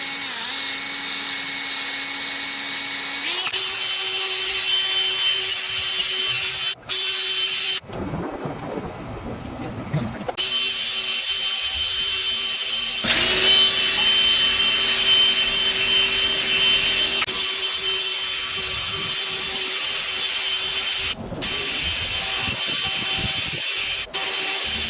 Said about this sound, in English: throw a fresh sponge on the drill. Now we're just gonna come back and buff all this stuff off.